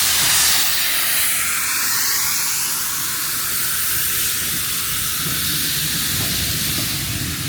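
A steam locomotive on a heritage railway lets out a strong, continuous hiss of escaping steam, loud and close, holding steady for several seconds with a low rumble underneath and no speech.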